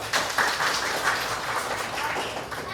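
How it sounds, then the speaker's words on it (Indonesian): A school class claps hands together in a brisk burst of scattered, overlapping claps, fairly soft and continuous for a few seconds. "Oke, tepuk tangan"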